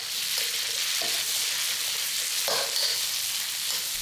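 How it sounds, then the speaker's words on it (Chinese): Shallots, dried anchovies and chili paste sizzle in a hot wok as they are stir-fried, a loud, steady frying hiss with a few scraping stirs of the spatula and no talk. "红葱炒香后，就可以下江鱼仔辣椒了"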